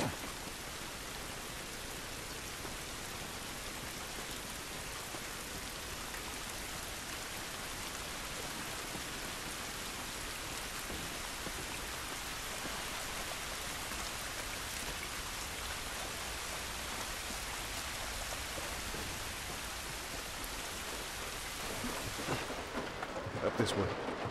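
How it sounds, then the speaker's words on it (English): Steady rain falling outdoors in The Last of Us, a dense, even wash of drops on surfaces that holds constant throughout, with a brief louder patch near the end. "This rain ain't gonna do us any good."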